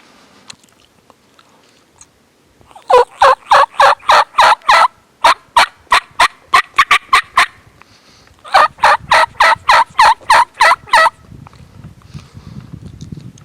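Wild turkeys gobble in a snowy spring field, several rapid bursts of rattling gobbles coming in quick runs, fairly loud and near, with quiet background between calls.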